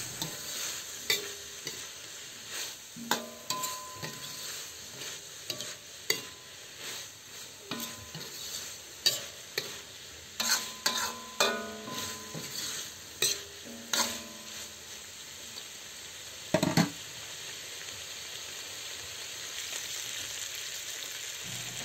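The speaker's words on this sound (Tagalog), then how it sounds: "Haluin natin ito ng mabuti." Ampalaya with pork and oyster sauce sizzles steadily in a pan while a utensil stirs it, each scrape and clack coming in an uneven repeating rhythm close by.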